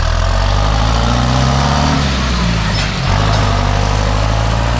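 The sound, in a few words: John Deere combine harvester engine driving off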